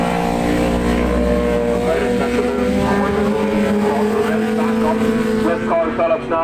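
Racing motorcycles at the Kirkistown circuit in Northern Ireland, closely bunched as they exit the chicane, their engines loud and near in a dense, rising howl of overlapping revs that holds steady throughout.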